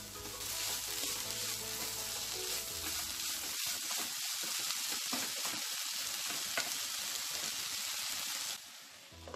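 Telangana-style bankoti curry frying in a pan gives a steady, close sizzle with scraping stirring strokes throughout, then the sizzle quiets near the end.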